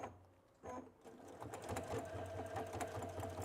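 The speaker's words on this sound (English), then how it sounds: "So now I'm stitching down the other side, approximately 1/4 inch." A Baby Lock sewing machine with dual feet and a jeans needle stitching a quarter-inch tote bag seam, starting after a brief pause into a steady, rapid mechanical whir with fast rhythmic clicking, close and moderately quiet.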